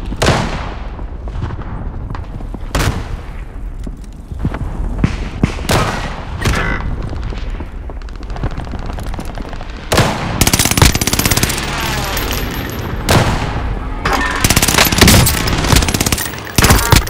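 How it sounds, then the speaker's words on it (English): Rapid bursts of automatic gunfire in Warzone Pacific on Rebirth Island, with scattered single shots giving way to dense, loud, sustained volleys close by and no voices. "Are shooting at me."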